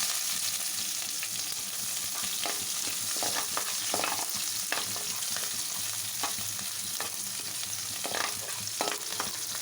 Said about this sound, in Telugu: ఆనియన్స్, పచ్చిమిర్చి, తాలింపులు బాగా ఆయిల్లో ఫ్రై చేసుకోవాలండి.